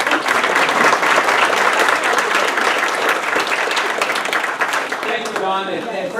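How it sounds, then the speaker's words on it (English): Loud, sustained audience applause at a school business meeting, dense clapping from a large crowd that thins slightly toward the end as a voice begins speaking over it. "Give him a round of applause."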